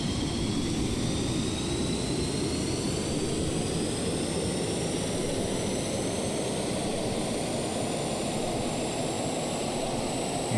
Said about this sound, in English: we can fire it up. Give her a second. Let her rev up to full power.